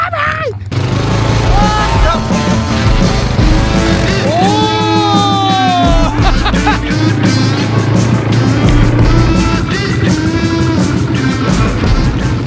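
Loud engines of ATVs on a desert safari in Dubai drone steadily and close throughout, with people shouting and talking excitedly over the continuous motor noise.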